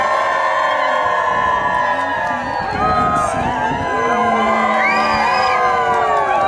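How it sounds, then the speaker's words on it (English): Wedding guests at a historic Alberta venue cheering together, a loud sustained crowd of whoops, shouts and high excited voices that dips briefly and then surges again. "Keep cheering."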